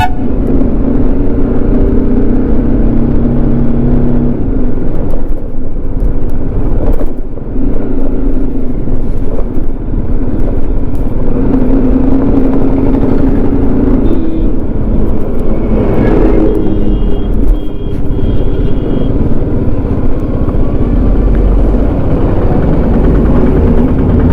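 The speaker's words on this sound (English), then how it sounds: "शायद 5 किलोमीटर से ज्यादा ही है ये जाम।" Riding a BMW G 310 GS motorcycle through a long traffic jam on the road: constant loud engine and wind rumble up close, with surrounding vehicles droning and occasional horn-like tones rising over the mix.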